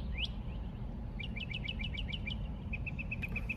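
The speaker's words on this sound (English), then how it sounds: "Some loud birds in the bush next to me." Loud birds in a bush close by outside a Goodwill store give a run of sharp, rapid chirps, about a dozen in a quick rhythmic string followed by a few steady higher tweets, over a constant low outdoor rumble.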